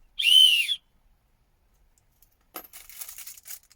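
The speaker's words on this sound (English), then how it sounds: "emergency whistle" An emergency whistle, part of a survival kit, gives one shrill, steady blast of just under a second, followed by silence and then soft rustling and handling noises.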